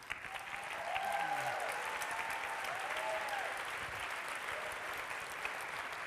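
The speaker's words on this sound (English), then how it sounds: "Give her a round of applause." A crowd claps steadily and warmly, a dense patter of applause that carries on throughout, with a few voices calling out over it.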